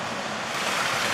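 Cold water rushes down a waterfall in a rocky canyon, a dense, continuous broadband roar with no breaks, close and loud.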